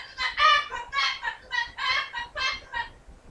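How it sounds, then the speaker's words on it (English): A pet bird calls in a rapid series of about eight or nine clucking, chattering notes close by, evenly paced and fading slightly toward the end. "You hear my bird?"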